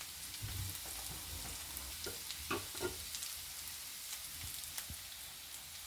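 Translucent onions fry in a pan as ground spices are added: a soft, continuous sizzle and crackle with a few light taps and scrapes, heard alone at low level.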